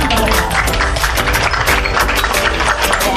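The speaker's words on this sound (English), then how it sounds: "A round of applause" Crowd applause for a coach being introduced at a Mr. and Ms. St. Clare 2019 pageant, dense loud clapping filling the whole stretch with voices mixed in.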